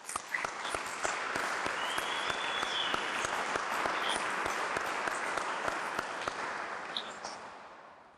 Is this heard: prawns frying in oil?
no